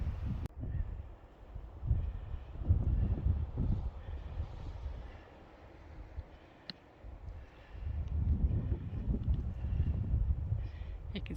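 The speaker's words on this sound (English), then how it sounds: "so it's windy, but it feels great" Wind blowing on a mountain trail near Mt. Laguna, with snow patches around, surging in strong low gusts that rise, ease off midway, then build again.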